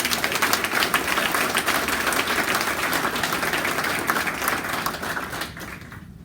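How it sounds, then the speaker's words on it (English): An audience claps steadily at a sheriff's office meritorious awards ceremony, a dense, even wash of applause that holds for about five seconds and then tapers off. "One more round of applause."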